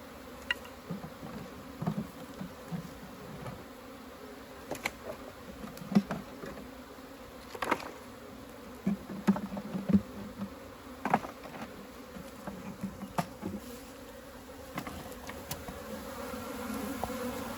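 Honeybees buzz steadily through an outdoor hive inspection of a moldy, moist, beetle-troubled colony, with a continuous droning hum and occasional louder passes as individual bees fly close by.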